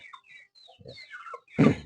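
Free-range village chickens (ayam kampung) kept in a small backyard flock give scattered soft clucks and chirps close by, ending in one louder, harsher squawk.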